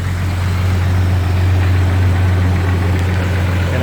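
A 1996 Jeep Grand Cherokee Laredo with a stalling fault idles steadily, its low, even engine hum and vibration close and continuous with no voices.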